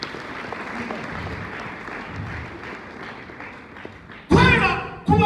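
A church congregation applauding, sustained clapping under a voice for most of the stretch, then a loud burst of speech near the end.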